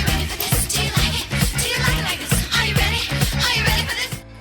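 A disco track, a driving steady four-on-the-floor beat with thumping kick, bass and bright layered instrumentation, loud and continuous until it cuts off just before the end.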